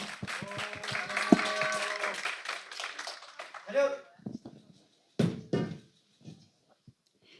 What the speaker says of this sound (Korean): 다시 한번 고등부와 학년을 대표한 기수단에게 큰 박수 부탁드립니다.